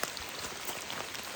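Steady rain falls through a forest on a cold, wet fall day in the Pacific Northwest, south of Mount St Helens, a soft continuous patter with no voices.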